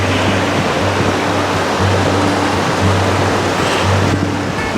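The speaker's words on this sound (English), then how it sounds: "But the waterfalls are pretty. It's just one constant cascade down the mountain here." Mountain waterfall in the Pecos Wilderness on the trail to Nambe Lake, cascading down steeply in a loud, constant, steady roar of rushing water, close by and unbroken, with no voices.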